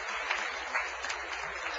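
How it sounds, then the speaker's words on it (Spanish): Audience applause in a church service, a steady dense wash of clapping lasting a couple of seconds at moderate level, with no voices over it. "Denle un aplauso para apoyar al hermano que está aplaudiendo"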